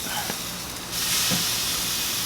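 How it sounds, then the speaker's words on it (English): A steady loud hiss of turkey sizzling in a hot oven that swells after a moment, with a brief soft clatter partway through. "Hear that sizzle?"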